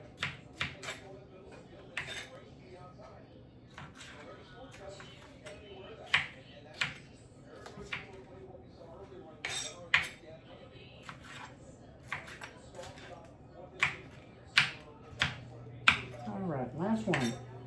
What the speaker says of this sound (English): Let me get these chopped up real quick.